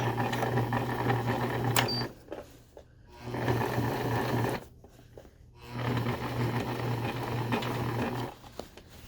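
A sewing machine stitches in fast, even bursts with short pauses between them, a close, steady whirring hum with clear needle clatter. No voices are present.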